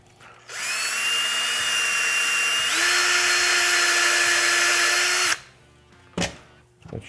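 A power drill with a step bit whines loudly and steadily for about five seconds as it bores through material by hand, its pitch stepping up partway, then stops, followed by a few clunks.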